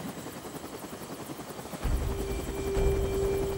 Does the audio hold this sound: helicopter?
yes